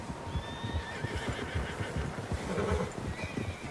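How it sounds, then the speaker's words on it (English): Several horses in Red Dead Redemption 2 neigh and whinny, with hooves clip-clopping on the ground beneath a steady outdoor ambience, the calls fairly close and clear, with no talk. "Horses, quite a few of them."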